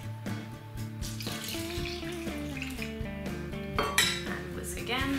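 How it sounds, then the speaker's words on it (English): Whisking cocoa powder with condensed milk in a bowl for ice cream: a continuous rapid clinking and scraping of a metal whisk against the bowl, close and steady, with no talking. "And just whisk that well together."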